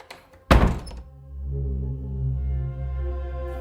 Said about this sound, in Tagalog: may narinig akong kakaibang tunog at kalabog sa pinto ko